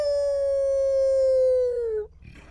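A voice imitates a wolf howl, one long, steady, high wail that slowly drops in pitch before breaking off, followed by a short rough tail of noise.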